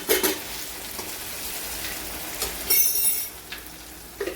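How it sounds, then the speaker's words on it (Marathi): Tomatoes and capsicum sauté in a pan for simla mirchi bhaji, a steady close sizzle broken by a few louder stirring scrapes and clinks, with no voices. "टमाटे पण असे छान परतून घ्यायचे अशा पद्धतीने."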